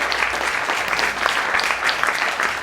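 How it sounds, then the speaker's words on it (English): An audience applauds musicians with steady, dense clapping that fills the space, loud and sustained without pause. "how about a round of applause for all our friends who came out for that?"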